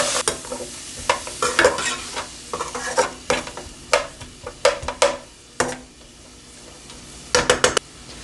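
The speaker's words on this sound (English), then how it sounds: "Now we're going to add onions, sweet pepper, celery, and we're going to give it a stir." Onions, sweet pepper and celery get stirred into a pot of rendered pork fat for Bahamian crab and rice, giving a soft sizzle under irregular, close scraping and clinking strokes of a spoon.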